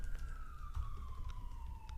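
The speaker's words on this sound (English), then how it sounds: "That one's ambulance this time." An ambulance siren wails outside at a distance, a faint, slowly falling tone under low traffic rumble.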